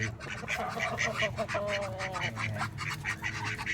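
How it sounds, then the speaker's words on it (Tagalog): Several ducks quack in a busy, overlapping chorus, rapid and nasal, fairly close, with some low background noise. "Tapos ayun yung mga pato namin."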